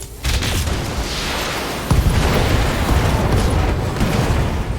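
Heavy explosions boom during a precision strike in the BattleTech mech combat game, with a low rumbling blast at the start and a second loud impact near two seconds, followed by sustained roaring debris and rumble.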